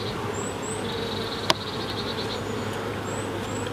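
Honey bees buzz in a steady, close drone during an October hive check, with one sharp click partway through.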